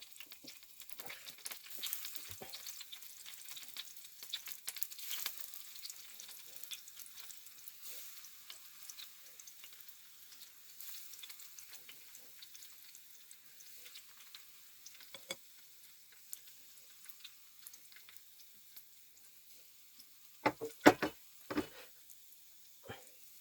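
Daisy fritters deep-fry in hot oil with a faint, steady sizzle and crackle, plus a few sharper pops and clatters near the end, heard close up without any voices.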